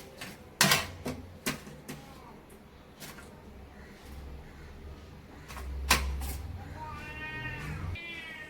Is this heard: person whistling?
no